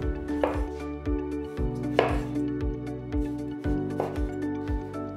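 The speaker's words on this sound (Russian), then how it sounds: "Мы берем один мытый баклажан и нарезаем его шайбами толщиной приблизительно по 8 мм." A washed eggplant is sliced into rounds about 8 mm thick on a board, with a knife making about a dozen crisp, evenly spaced chops close to the microphone and no talking.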